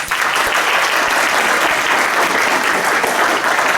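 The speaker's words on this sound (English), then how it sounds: "So let's give him another round of applause." Convocation audience in a large hall giving a sustained round of applause, dense and loud clapping from many people holding steady for nearly four seconds.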